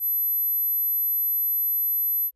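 A steady high-pitched ringing tone imitating tinnitus holds at a constant level for about two seconds, then cuts off abruptly.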